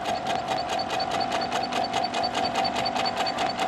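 A sewing machine stitching during free motion quilting, a fast, even mechanical chatter of needle strokes with a steady motor hum, close and continuous with no talking.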